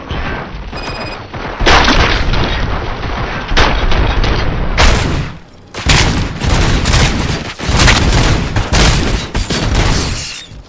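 Loud, dense gunfire in RoboCop: Rogue City, with heavy bursts and booming shots that roll on in waves with brief gaps and keep pounding near and close throughout.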